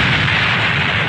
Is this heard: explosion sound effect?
yes